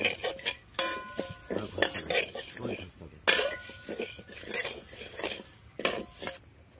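A metal spatula clinks and scrapes against a wok while dal is stirred and fried, giving an irregular, close clatter of utensil strikes with quieter gaps between them.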